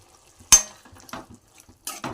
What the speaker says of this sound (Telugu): ఇప్పుడు సన్నగా తరిగిన టమాటాలను వేసుకుందాం